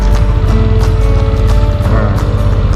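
A car engine with a stop-and-start system runs at a steady idle, a loud low rumble with a regular pulsing beat and faint mechanical ticking throughout.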